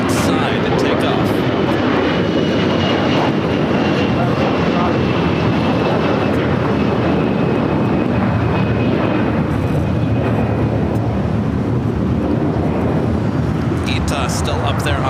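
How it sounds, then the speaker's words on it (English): An Air Tahiti Nui Dreamliner jet being pushed back from the west gates at LAX, bound for Paris, gives a loud, steady engine roar that fills the whole stretch. A faint high whine runs through it. "we do have an Air Tahiti Nui Dreamliner now pushing it back from the west gates"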